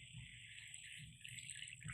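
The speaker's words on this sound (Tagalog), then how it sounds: "Yan, maglagay na tayo ng tubig." Water pours into a cooking pot for pork sinigang, a steady faint trickle and splash running continuously for about two seconds with no talking.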